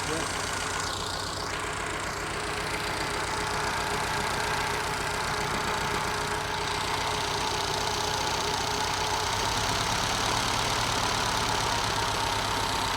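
A carbureted test engine idles with a continuous mechanical drone, missing on one cylinder to give an uneven, stumbling beat, while someone talks over it.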